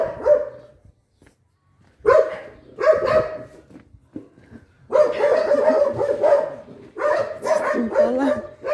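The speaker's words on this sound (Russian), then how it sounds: "Вот тут такие добрые собаки тоже живут." Dogs bark at a dacha in a garden community, loud and close, in repeated bursts of sharp barks with short pauses between and a brief whimpering yip among them.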